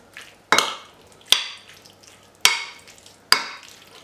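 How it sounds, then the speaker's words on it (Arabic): Chicken shawarma marinade with olive oil and lemon juice being stirred in a bowl, four sharp scraping strokes spaced about a second apart, close and fairly loud with quiet gaps between. "نحركوا هاد العناصر هذه كامله مزيان"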